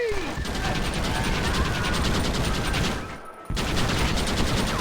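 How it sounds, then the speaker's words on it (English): Rapid gunfire in Red Dead Redemption rattles on almost continuously as a dense, loud barrage, briefly dropping out for a moment before resuming at full strength. "Why are they all shooting at"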